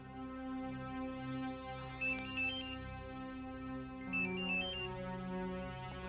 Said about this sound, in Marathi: जानकीचा फोन आहे.